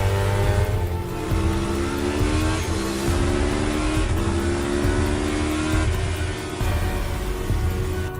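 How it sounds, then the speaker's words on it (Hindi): A motorbike engine roars loud and close in an animated horror story scene as the bike leaps over a gate, its rising revving tones holding steady throughout with no talking. "बाबा ने गेट के ऊपर से ही बाइक को उड़ाकर बाहर निकाल लिया।"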